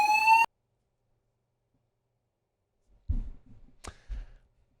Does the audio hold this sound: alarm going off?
yes